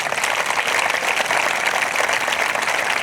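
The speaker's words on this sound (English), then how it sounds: "Let's give one more round of applause to all the staff" A graduation crowd applauds the school staff, loud sustained clapping that stays even and dense throughout.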